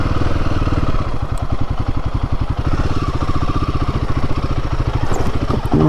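A Royal Enfield Himalayan 450 is ridden across a rocky off-road stretch, its engine thumping in a fast, even beat, loud and close throughout, with light clatter over the top and no talking.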